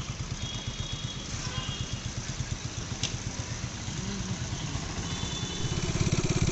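A motorcycle idles and runs with a steady low, pulsing engine putter, close to the microphone, on a ride home near a coal mine in Ballarpur with cloudy skies.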